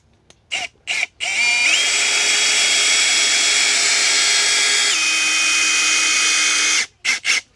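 A power drill driving a hex bit whirs steadily for about five seconds, its pitch stepping up and down, framed by a few short bursts of the trigger before and after.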